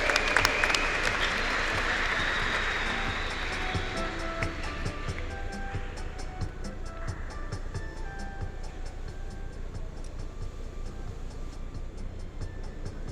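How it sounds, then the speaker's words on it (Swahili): An audience applauds small Christian communities at a church deanery family day, a sustained burst of many hands clapping that starts strong and then settles into steady, slightly thinner clapping. "Tuwapigie makofi hizo jumuiya"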